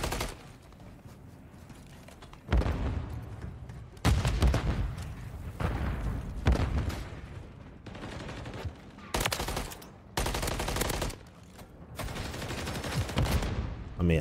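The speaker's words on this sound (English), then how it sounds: "I just try to dodge that nade." Gunfire and grenade blasts in an online shooter game, with loud bursts of rapid automatic fire and heavy booms coming in waves between quieter stretches.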